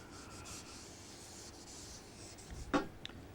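Pen or marker scratching out an equation by hand during an electrical circuit analysis lecture, a faint continuous rubbing that swells into a brief firmer stroke near the end, quiet and close, with no speech.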